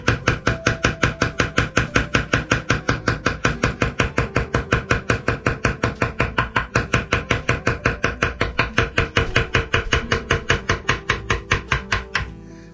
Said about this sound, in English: I'll tap real shallow little beats to kind of chop through that grain.